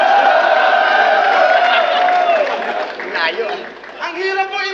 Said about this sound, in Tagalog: By the way, crowd reaction yan, guys, ha?